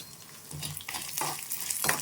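Tamarind frying and being stirred in a pan for neem flower chutney, with soft, steady sizzling and scraping strokes close by, and no talking.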